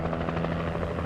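Steady helicopter rotor drone from the video game Alan Wake Remake, a constant loud whirring hum with low blade thump running through the whole short stretch, no voices.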